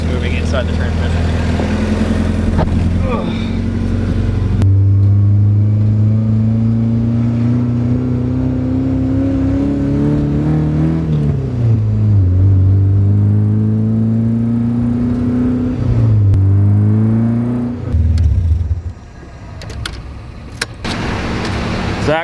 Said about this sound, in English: What I'm hearing is the gears moving inside the transmission.